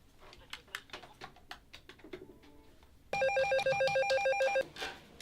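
A police-office desk telephone rings with a loud electronic warble that lasts about a second and a half. Before it, faint clicks and small office noises are heard.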